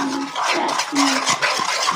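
Play-Doh being stirred and mashed with water, a soft wet squishing and scraping that continues steadily up close with no talking.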